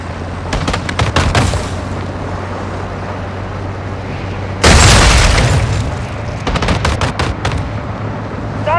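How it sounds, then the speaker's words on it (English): Heavy gunfire and a loud explosive boom ring out during a Call of Duty: Modern Warfare 2 battle, with bursts of rapid shots on either side of a big blast near the middle. "Gaz, don't get caught in fire!"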